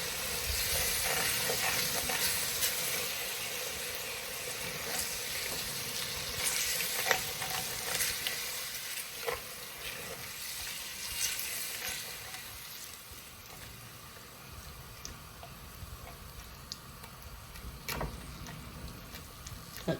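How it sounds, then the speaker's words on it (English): Food sizzling and crackling in a hot pan while preparing beef burgundy stew, a continuous fizzing hiss with scattered pops and a few sharper stirring clicks, fairly close. "a couple minutes in the pan. Then I'll be adding my onions."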